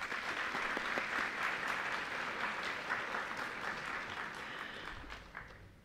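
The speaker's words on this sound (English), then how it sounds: "Please give them a round of applause." Steady, many-handed applause from a Year 12 graduation audience rolls on evenly before gradually thinning and tapering off at the end.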